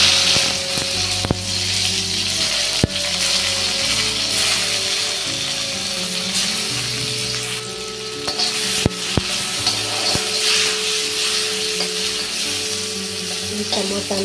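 Chopped tomatoes sizzle and fry steadily in a hot pan while cooking a sprouted green gram curry, with occasional stirring scrapes throughout; no one speaks.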